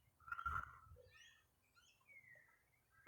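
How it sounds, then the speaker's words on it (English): Birds call faintly outdoors at sunset, with a few soft chirps and a thin whistled note over quiet low background rumble, distant and sparse. "Birds everywhere again."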